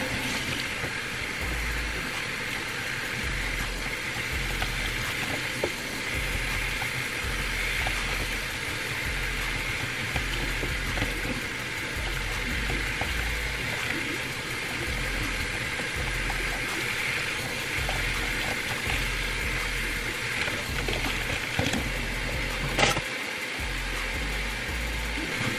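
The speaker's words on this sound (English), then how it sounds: "I'm gonna go ahead and rinse it out." Steady running tap water rushes without pause while short curly hair is rinsed out, a constant close hiss with faint low rumble and no talking.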